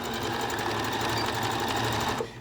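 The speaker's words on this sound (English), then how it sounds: "I'm at the end of this one stitch, so I'm going to make sure I backstitch again." A sewing machine runs steadily as it backstitches along a dress seam. The motor hum and rapid needle chatter are close and continuous, then stop just before the end.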